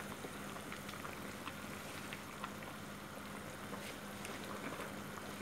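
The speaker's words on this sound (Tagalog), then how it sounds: "Niluluto kong sinigang." Pot of sinigang na bangus, a Filipino milkfish soup with kangkong, bubbling steadily at a boil, a continuous close hiss and crackle with no talking.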